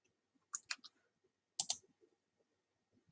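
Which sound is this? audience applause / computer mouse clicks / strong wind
computer mouse clicks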